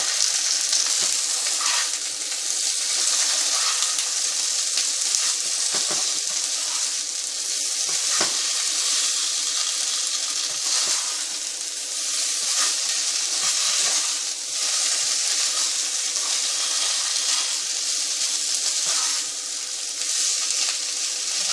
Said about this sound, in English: I have taken a light bottom pan, so I want cauliflower to be roasted a bit and potatoes to be roasted.